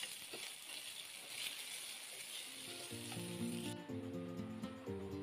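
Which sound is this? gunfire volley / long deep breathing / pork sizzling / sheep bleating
pork sizzling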